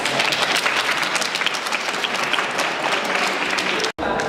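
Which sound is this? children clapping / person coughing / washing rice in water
children clapping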